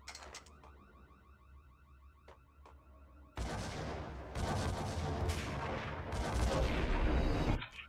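Gunfire bursts in the video game Max Payne, set on the Aesir level, loud and sustained over the second half after a quieter stretch of clicking mechanical game sounds.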